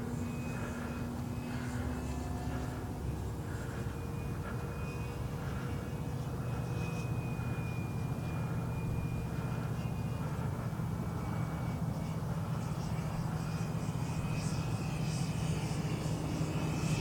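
An H-King Yak-11 radio-controlled model plane in flight, its engine droning steadily and fairly loud throughout, with pitch shifts as it passes and banks overhead.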